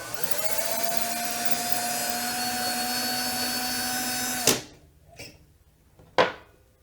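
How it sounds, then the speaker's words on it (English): A Lee cutter spins against a cartridge case to trim it, making a steady close whirring whine for several seconds that cuts off abruptly, followed by a few sharp clicks and knocks. "just slide the cutter over or inside the case and then just spin it until it"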